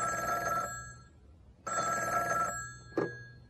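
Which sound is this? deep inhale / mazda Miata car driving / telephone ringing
telephone ringing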